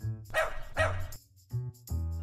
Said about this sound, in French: Chien.